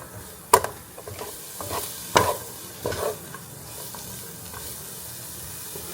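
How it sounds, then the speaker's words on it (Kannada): Tomatoes go into a frying pan and are stirred, giving a few sharp scraping clatters over a soft steady sizzle. "ಇವಾಗ ಟೊಮ್ಯಾಟೊ ಆ್ಯಡ್ ಮಾಡ್ಕೊಳ್ಳೋಣ."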